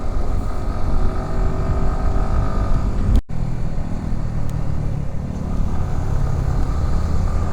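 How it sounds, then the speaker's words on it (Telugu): Engine roar of Bajaj Dominar 250 and 400 motorbikes passing close by on a road, a continuous rumbling drone that cuts out briefly partway through before resuming. "ఎదురు వెళ్తున్నాయి కదా ఇవే బైక్స్"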